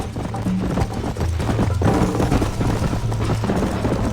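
A horse gallops in the Red Dead Redemption video game, a steady rhythmic drumming of hooves at close range, continuous for about four seconds beneath a low background rumble.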